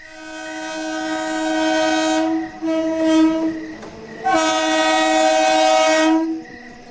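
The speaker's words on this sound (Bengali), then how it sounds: "ওই ট্রেন এসে গেল" A train arrives at night sounding its horn in two long, loud blasts separated by a brief gap, with faint rumbling and no voices.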